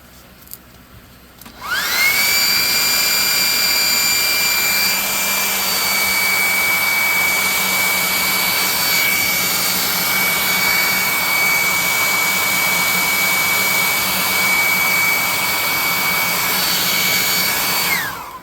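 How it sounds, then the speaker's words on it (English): A hair dryer switches on and blows steadily for about fifteen seconds with a high whine over a rushing airflow, then cuts off at the end. "Let's hit it with the the hair dryer again."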